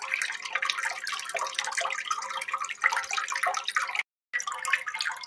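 An old toilet cistern refills through its float valve: a steady rushing hiss of flowing water, broken once by a brief drop to silence before the flow resumes.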